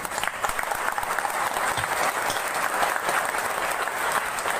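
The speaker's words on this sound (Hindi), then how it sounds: "एक बार खड़े होकर एक साथ सब मिलकर ताली बजाएं।" A standing audience at a railway goods-shed workers' union meeting claps together in steady, dense applause that fills the room evenly without a break.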